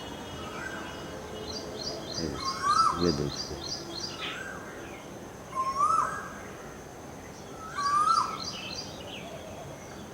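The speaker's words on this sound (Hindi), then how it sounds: "तो सामने पेड़ के ऊपर कोयल बोल रही है" An Asian koel sings from a tree in a garden in May, its rising whistled calls repeating about every two to three seconds, with a rapid bubbling trill near the start; someone speaks briefly over the birdsong.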